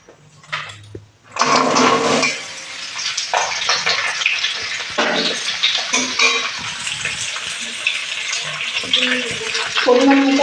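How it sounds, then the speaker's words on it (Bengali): Vegetables dropped into hot oil burst into loud, close sizzling after a brief quiet start, then keep up a steady frying hiss with intermittent stirring and scraping noises; no talk. "আমার ঘরে যে সবজি ছিল সেই সবজিগুলো আমি দিয়ে দেবো এখন তেলের মধ্যে"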